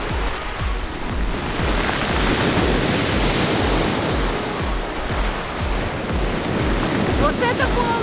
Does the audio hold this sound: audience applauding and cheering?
no